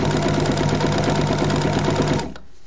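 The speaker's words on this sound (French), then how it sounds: "Je continue en point droit." A sewing machine runs a steady straight stitch, its rapid needle rhythm loud and continuous for about two seconds before stopping abruptly.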